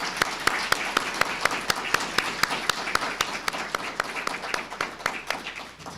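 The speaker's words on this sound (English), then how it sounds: "If you'll join me in giving them a round of applause" An audience at a library literacy graduation ceremony applauds the volunteers, with sharp rhythmic unison claps over a bed of scattered clapping, steady and moderately loud, tapering off near the end.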